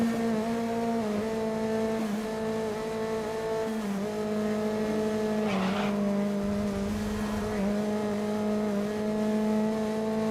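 A racing car engine in the racing game Grid drones loud and continuous at a steady high pitch, with brief dips as the revs shift and no speech.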